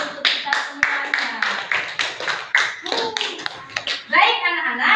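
Children applaud in a classroom with a burst of steady, lively clapping lasting several seconds, mixed with kids' voices and chatter near the end.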